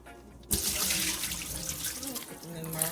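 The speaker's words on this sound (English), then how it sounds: "You just gotta make sure you wash your rice." Tap water suddenly gushes on and runs steadily while rice is washed under it in a kitchen sink, a close hissing splash with a voice speaking over it.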